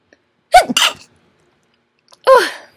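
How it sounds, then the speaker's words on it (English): Two sharp sneezes close to the microphone, the first a quick double burst, the second after a short pause, with silence around them. "Am I about to sneeze?"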